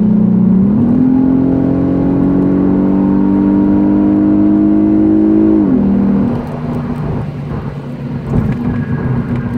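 A Lexus IS250 engine pulls steadily in fourth gear, selected with the paddle shifters, as a smooth, loud drone. Its pitch shifts as the gear changes partway through, then settles into a rougher, lower hum with road noise and no talking.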